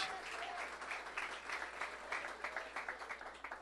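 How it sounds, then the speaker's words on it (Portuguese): A church congregation at an evangelical worship service claps loudly in a sustained round of applause, many hands overlapping into a thick wash with occasional sharper bursts toward the end. "Então você pode aplaudir Jesus bem forte mais uma vez?"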